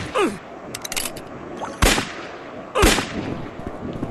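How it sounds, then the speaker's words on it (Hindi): Pistol shots fired at a jaguar in a video game: two sharp, loud reports about a second apart, each with a brief echoing tail, plus softer clicks and handling noise between them. "पिस्टल मेरे पास रेडी है हाथ में, मैंने मारना शुरू कर दिया है जिस जैगुअर को"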